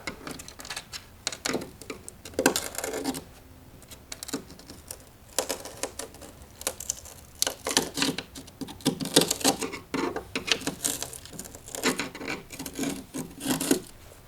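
Repeated scraping and rasping of a chisel prying up hard tile on a Schluter foam shower pan, in short uneven bursts with brief pauses, close and fairly loud.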